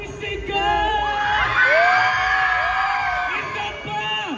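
A fan crowd at a K-pop group's fan day event shouts and cheers loudly and continuously, with many high-pitched screaming voices layered into a dense wash of yelling.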